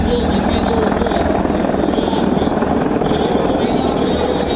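A helicopter flying an airshow display at MAKS 2017 gives a loud, continuous rotor and engine roar with a steady rapid chop for the whole stretch, close and unbroken.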